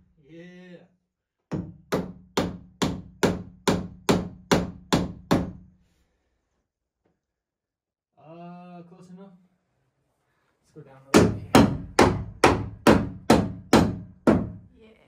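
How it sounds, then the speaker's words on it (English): A hammer strikes wood while loft boards are fitted in a cabin, loud, close and in two rapid runs of about nine to ten evenly spaced blows, with a short voice heard between them. "I need a hammer."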